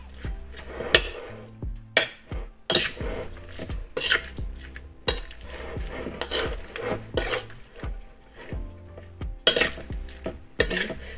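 A utensil scrapes and clinks against a bowl while chicken flavor seasoning is mixed in, giving repeated sharp taps and rasping strokes in an irregular rhythm, close and fairly loud with no talking.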